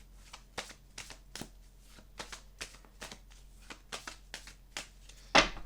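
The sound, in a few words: oracle cards being shuffled and drawn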